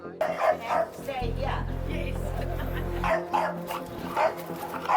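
Dogs bark and yip agitatedly, close by, mixed with whimpering and overlapping voices, while a low steady hum runs through the middle.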